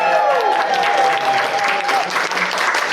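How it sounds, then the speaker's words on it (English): A live audience at the British Film Institute bursts into loud, sustained cheering and applause, dense clapping filling the room with a few whoops rising above it. "can you everyone give us a big cheer so that the people at home can realise you're here"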